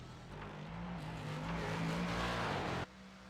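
A Daytona Prototype race car's engine in a sports car racing sim at Detroit, rising to a loud, building roar, then cutting off abruptly to a quieter background hum.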